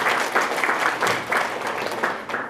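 A crowd applauds at a Polish Christmas carol and nativity play showcase, with loud, continuous clapping from many hands. The clapping swells in slight waves and carries no talk.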